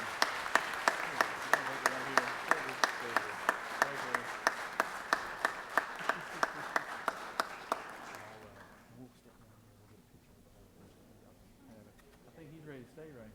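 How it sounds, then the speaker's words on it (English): Legislators and guests in a state legislative chamber applaud a family, with evenly spaced sharp claps standing out over the crowd for about eight seconds before the sound fades to quiet room murmur. "Let's give this lovely family a round of applause"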